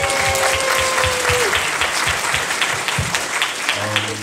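A short burst of loud, close audience applause at a stand-up comedy show, with clapping hands throughout, a sustained tone briefly sounding behind it.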